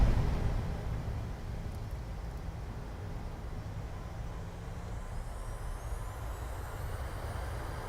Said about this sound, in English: And touchdown, reverse thrusters.